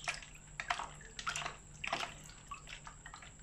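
Water sloshing and splashing in a tsunami model demonstration, irregular wet bursts and gurgles over a faint steady hum, close and moderately quiet, with no voices.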